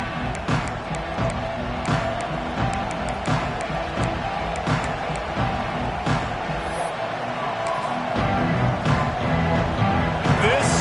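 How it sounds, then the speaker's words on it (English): Football stadium crowd at a Nebraska versus Michigan State game, a broad roar of cheering and noise that swells near the end, with commentators talking over it throughout. "This crowd ready to make its presence known."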